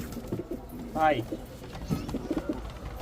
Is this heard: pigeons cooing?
yes